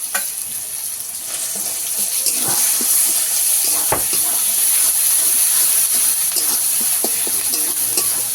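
Ground spices with ginger paste, cumin paste and garlic fry in oil in a pan for a fish kalia. Loud, continuous sizzling and hissing run throughout, broken by sharp spoon scrapes and clinks as the mixture is stirred.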